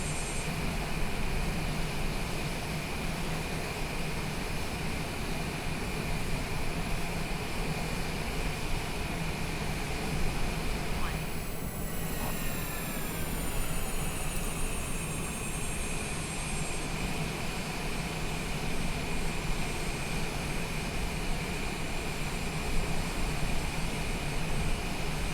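Steady aircraft engine roar at Edinburgh airport in Microsoft Flight Simulator with FS Traffic, a continuous jet drone throughout, with a brief rising whine sweeping through near the middle.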